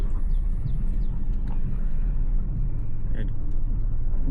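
A Chevy Equinox (2010–2017 model) with a worn rear differential clutch pack rolls on a test drive, a steady low engine and road rumble from inside the cabin while someone speaks briefly.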